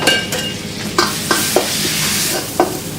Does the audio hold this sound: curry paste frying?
yes